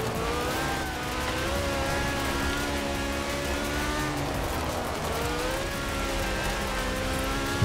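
A class B buggy engine drones steadily as the car is driven in Forza Horizon 4, a loud continuous motor note that rises and dips slightly in pitch with the throttle, close and unbroken throughout.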